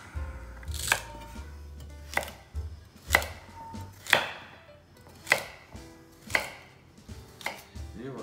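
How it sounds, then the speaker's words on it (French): Knife chopping celery and carrots into small pieces on a cutting board, about seven separate sharp strokes spaced roughly a second apart, close and clear against a quiet background with no talking. "On va couper en petits morceaux céleri et carottes."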